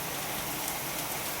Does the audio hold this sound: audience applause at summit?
no